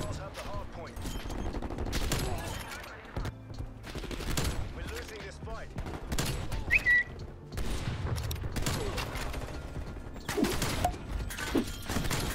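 Gunfire in the video game Black Ops Cold War: dense bursts of shots and booms rattle steadily through the whole stretch, loud and close, layered with game effects and some voice.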